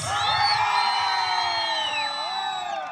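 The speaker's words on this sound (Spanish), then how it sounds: "El aplauso para el participante número 3." A crowd at a jaripeo in El Guaje, Huanusco, cheers and whoops in a sustained chorus of high, sliding voices, with applause mixed beneath the shouting throughout.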